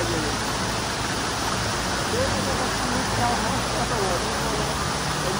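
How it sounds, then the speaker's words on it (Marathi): Waghoba waterfall near Palghar, a small roadside fall with gentle water pressure, roars as a dense, steady rush of falling water, loud and unbroken throughout. "मस्त असा लहान वॉटरफॉल आहे"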